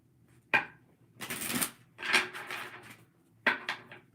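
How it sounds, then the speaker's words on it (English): Tarot cards are shuffled by hand in several bursts: a sharp riffle snap, then longer rustling riffles and another crisp snap, close and fairly quiet with brief pauses between. "let's start shuffling"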